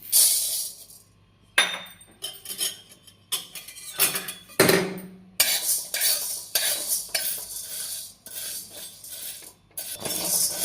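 Sabudana being dry roasted in a pan, with a utensil scraping and clinking against the metal in irregular bursts of stirring, close and fairly loud, with short pauses between strokes.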